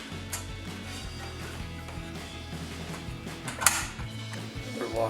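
Ratchet clicks and mechanical cranking as a bolt is tightened during a DV8 Offroad Spec Series front bumper install on a 2023-2026 Colorado truck, heard close up over a steady low hum with one sharper metallic clack.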